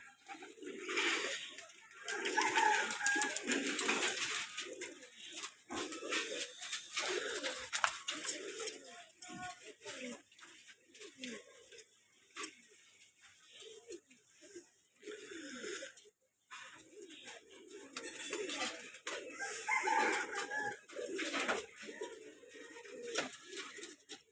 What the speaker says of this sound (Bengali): এখানে আছে আমার বাসার একবারে ডাইরেক্ট মেন কবুতরগুলো